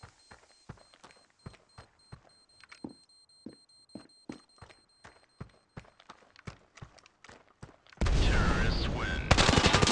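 Rapid bursts of gunfire from the mobile shooter game Standoff 2, sharp repeated shots ringing out in quick irregular volleys, ending in a sudden loud sustained blast of noise.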